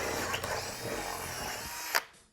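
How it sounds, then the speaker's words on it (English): A drill bores a hole in wood with a 1 inch Woodowl bit, whining loudly and steadily up close, then spinning down after a final bump. "Now let's try the 1 inch bit."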